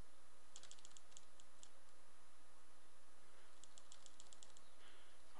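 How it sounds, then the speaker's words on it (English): Typing on a computer keyboard: two quick bursts of light, close key clicks separated by a pause, faint against a quiet room hiss. "I was typing and I was looking at my keyboard"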